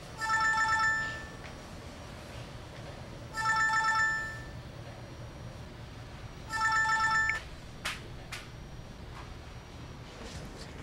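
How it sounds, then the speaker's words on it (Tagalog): A mobile phone ringtone announcing an incoming call, three short melodic bursts in a row with pauses between, followed by faint handling clicks and no talk. "May tumatawag."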